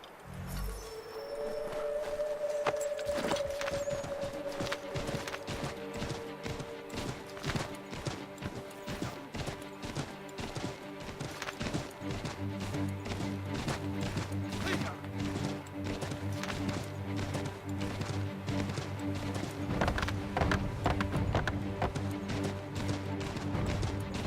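Horse hooves clopping steadily through a forest in Assassin's Creed III, a continuous galloping rhythm under game music and ambient noise, with brief talk near the start.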